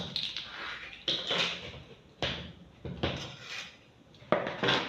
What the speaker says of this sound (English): So I'm going to stir it.